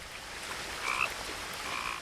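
A single frog croaks in the video game What Remains of Edith Finch, with a brief call near the middle and a fainter one toward the end over quiet ambient sound.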